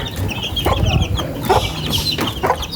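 Hens clucking in short repeated bursts over a noisy farmyard background with chicks, close and fairly loud.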